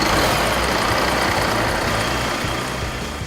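International truck engine running steadily on a dynamometer in an indoor test cell, a loud, dense roar with a constant low rumble that tapers slightly at the end, no voices.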